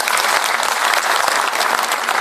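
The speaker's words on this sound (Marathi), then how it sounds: "त्यांच्यासाठी एकदा जोरदार टाळ्या वाजवा" A dense crowd claps continuously at a Lok Sabha election campaign rally in Ahmednagar, loud and close, with the applause holding steady throughout.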